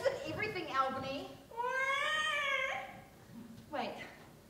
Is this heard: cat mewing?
yes